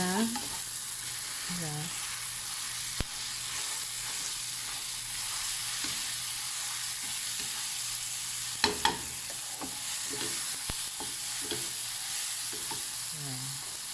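Garlic frying gently in a pan, part of a Filipino pinakbet, makes a steady mid-level sizzle with occasional utensil clicks and light scraping as it is stirred; a voice speaks briefly.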